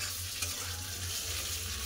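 Potatoes frying in oil in a pan give off a faint, steady sizzle with a soft low hum underneath, and no voices.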